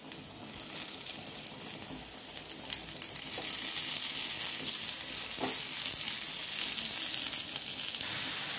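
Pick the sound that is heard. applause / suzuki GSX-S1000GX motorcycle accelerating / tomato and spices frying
tomato and spices frying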